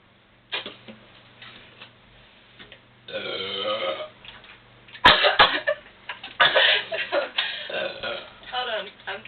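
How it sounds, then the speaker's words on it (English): Loud, drawn-out burps during a burping contest between two girls, several croaking belches in a row with short gaps, close to the mic, mixed with laughter and talk. "Hold on, I'm still burping."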